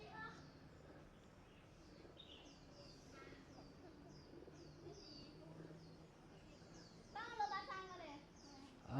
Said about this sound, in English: You can hear them cooing. Pigeons on the roof in here.